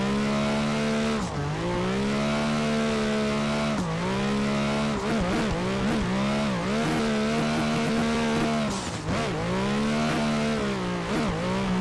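Nissan Z drift car in the Assetto Corsa racing game at full boost, a loud continuous engine roar that rises and falls through repeated rev sweeps and gear shifts, with tire noise underneath and no talking.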